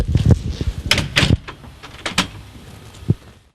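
A door at a residential house is opened and quickly shut, giving a few sharp knocks and clunks up close, followed by quieter rustling and handling sounds.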